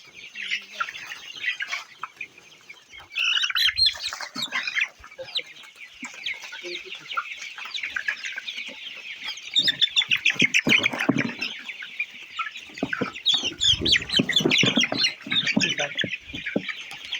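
Colour bird broiler chickens, about 31 days old, cluck and squawk steadily at close range on a farm, with brief wing flaps and scuffling, and no talking.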